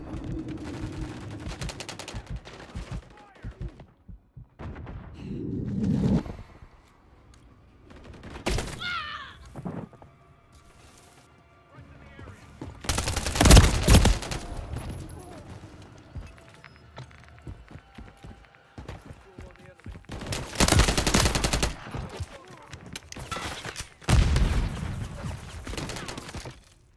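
Gunfire in Call of Duty: Modern Warfare 3, heard as scattered shots and several loud bursts spread through a quieter stretch of game sound, with thumps and movement between them.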